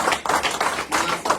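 An audience applauds two people, a short burst of rhythmic, fairly loud hand claps in even pulses lasting just over a second.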